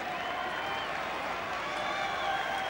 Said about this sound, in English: you can hear the crowd realise he's about to come on